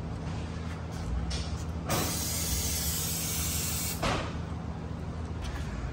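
Oil drains from the 8 mm Allen-head drain bolt of a CFMOTO CFORCE 500 ATV during service, a steady close hissing pour with a brief louder surge partway through.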